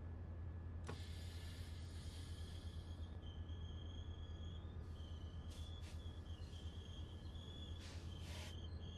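A train passes in the Train Sim World 4 game on the Antelope Valley Line, a steady rumbling hum with rising high-pitched wheel squeals and whines over a low engine drone, alone without talk.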